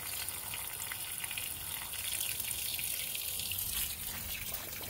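Water rushing out of a DIY bell siphon pond filter as it drains quickly, a steady, close gushing and splashing flow that holds constant throughout with no pauses.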